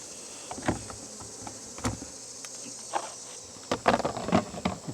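A light, steady hum of honey bees hangs around a hive as honey frames are pulled, broken by scattered knocks and scrapes from nearby handling.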